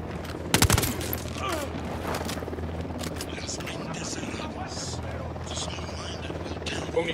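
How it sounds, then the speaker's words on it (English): A helicopter's rotor roar mixed with a sharp burst of gunfire early on in the Ghost Recon video game, the chopper churning steadily throughout with scattered shots and game voices over it. "We'll need that chopper, stay low."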